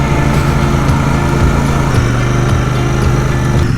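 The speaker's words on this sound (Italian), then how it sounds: "il bello di sentire il motore che scende e poi ridai gas e lei riprende" A motorcycle engine drones steadily and loudly up close in a remote mountain valley near the Adamello, its pitch dipping slightly and picking up again under a constant throttle roar.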